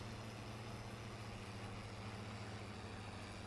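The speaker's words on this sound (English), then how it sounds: "Come on tractor, you know you want to." Farm tractor engine in Farming Simulator 22 drones steadily as it strains uphill, a constant low rumble with a faint whine, no talk over it.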